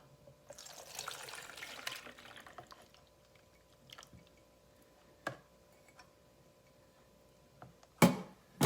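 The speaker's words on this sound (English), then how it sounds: "what we are going to do now is strain it" Watery milk curds run through a strainer into a bowl, a soft trickling wash in the first few seconds, then a few isolated clinks and taps, ending in a sharp louder knock.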